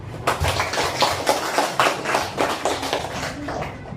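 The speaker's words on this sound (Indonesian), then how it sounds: "Ya, tepuk tangan" Students in a classroom clap their hands in a lively burst, a run of sharp, fairly close claps with uneven rhythm, loud at first and thinning slightly toward the end.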